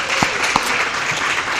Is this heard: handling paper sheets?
no